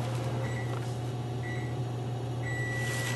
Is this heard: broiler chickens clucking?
no